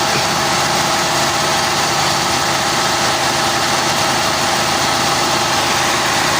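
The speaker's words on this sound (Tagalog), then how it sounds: "So ngayon maandar itong fan. Maandar na yung fan, yung dalawa." Two auxiliary radiator fans on a Toyota car's air-conditioning system run steadily, a loud continuous broadband whoosh with an engine-like drone beneath, unchanging throughout and with no talking.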